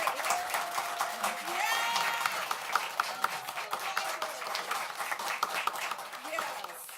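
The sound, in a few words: audience applause at school board meeting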